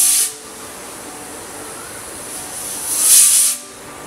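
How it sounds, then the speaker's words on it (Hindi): A pressure cooker on a gas stove, cooking bottle gourd sabzi, lets out a short hiss at the start and then a louder, longer whistle of escaping steam, close and alone. "कुकर में सीटी आ गई है।"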